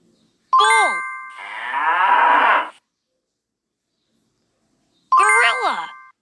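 A bull lowing in an educational children's matching game, a single long, loud, drawn-out moo set between two bright chime-like dings, with silence after it.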